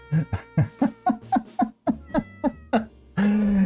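A gray cat named Fang meows repeatedly, about a dozen short, close, loud calls in a quick uneven rhythm, followed by a longer drawn-out cry at the end.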